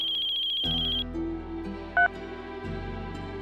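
A phone ringtone chimes with a repeating electronic melody, then gives way to a steady humming tone and a brief beep.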